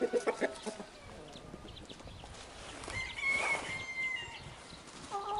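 Roosters and hens move around a farmyard, giving scattered short clucks and a few brief, higher calls, moderately close but fairly quiet, with no one speaking.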